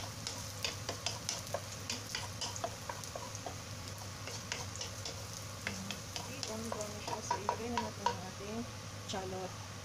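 Ginger frying in hot oil in a pan as it is stirred, giving a steady soft sizzle with scattered light scraping and clicking from the stirring throughout.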